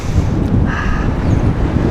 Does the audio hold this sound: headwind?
yes